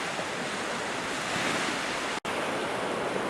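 Surf breaking and washing steadily along the waterline of Sword Beach on the Normandy coast, a continuous broadband roar with wind noise, close and fairly loud, briefly cut by a short dropout near the end.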